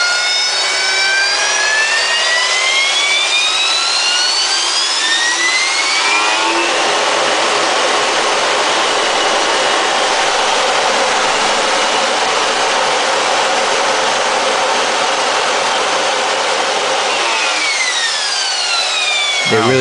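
USMC AV-8B Harrier jet engine from the cockpit: loud sustained roar with whining tones climbing, a long harsh buzzing stretch in the middle, then sweeping tones return near the end; no talk.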